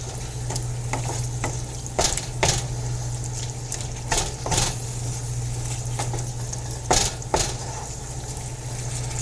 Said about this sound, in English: Alright, so we'll give all that a good stir. Mix in all of these flavors.